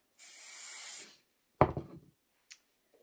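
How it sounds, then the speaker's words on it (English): A single steady hiss of adhesive aerosol spray onto an embroidery hoop frame lasts about a second, then a few brief handling clatters and a faint tap follow. "So we have a little adhesive spray on here."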